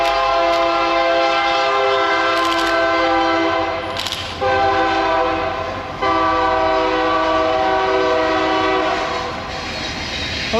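Train passing close by with its horn blaring in long, loud, sustained chords, cut by short breaks, over the steady rumble and clatter of rail cars.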